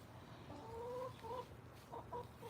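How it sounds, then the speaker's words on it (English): Backyard chickens, the big hens of the flock, cluck in short repeated bursts near the camera over a low steady background hum. "The big chickens are coming in."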